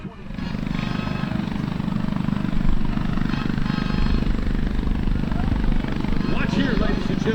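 A B-25 bomber at an air show gives a loud, steady, low piston-engine drone with a rough propeller rumble that swells slightly mid-way, heard outdoors with a voice audible over it.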